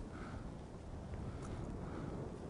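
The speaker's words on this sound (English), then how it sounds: "The wind is blowing a ton up here." Strong wind blows outdoors at a rainy fishing spot. It makes a steady, faint, low rumbling buffet across the microphone, with no voices.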